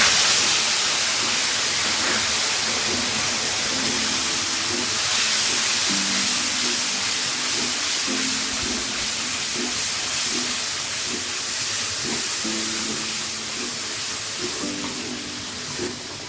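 Tomato paste sizzles in a hot pan as a steady, dense hiss that holds at an even level throughout, with faint low clinks and stirring underneath.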